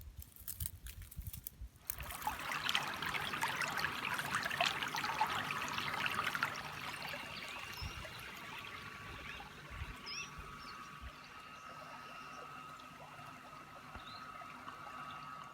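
Shallow river water trickles and burbles across a low drift crossing in the Klein Karoo, a steady close wash with a brief louder patch early on and no talk over it.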